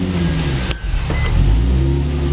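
A Nissan 350Z fitted with a Borla exhaust and resonators rumbles in a steady, deep, close idle, with a brief mechanical whine near the start.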